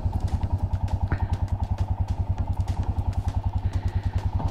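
Motorcycle engine running on a summer morning ride in New Zealand, a steady rapid chugging pulse, close and fairly loud, with no talking.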